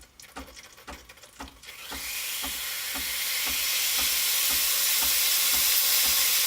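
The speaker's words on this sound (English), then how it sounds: "it does take about 10 to 15 seconds for that steam wand to actually start pumping that steam" A rhythmic ticking pulse, then the steam wand of a Breville espresso machine bursts into a loud, steady hiss that keeps building and drowns out the ticking.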